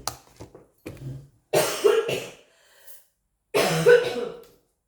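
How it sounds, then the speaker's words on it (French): Several harsh coughs up close, a couple of small ones followed by two loud, rough bursts separated by quiet pauses. "Excusez-moi, je vais encore tousser."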